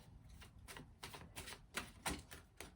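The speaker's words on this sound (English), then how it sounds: "So I'm just going to shuffle the cards again on this one." A deck of tarot cards being shuffled by hand, its long cards awkward to handle, gives a series of soft rapid riffling bursts about every half second, close and moderately quiet, with no talking.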